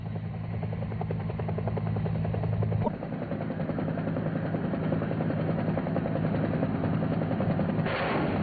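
A UH-1 helicopter's rotor drones steadily while its minigun fires, the rapid gunfire blending into the loud continuous engine and blade noise for the whole stretch.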